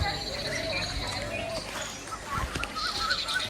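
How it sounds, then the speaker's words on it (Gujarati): Peacocks call near an old historic temple, Navlakha temple. Loud honking, goose-like cries repeat over a steady outdoor background of insects and wind. "અત્યારે મોરલા બોલે છે"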